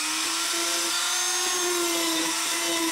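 A Dremel flex shaft rotary tool with a burr carves a wood spirit face into wood, a continuous high whine that holds steady with slight pitch dips as it bites, close and loud, alone without speech.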